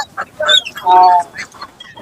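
Several chickens, including fancy breeds, cluck and squawk in quick, uneven bursts at a market, close and fairly loud, with one longer drawn-out call in the middle.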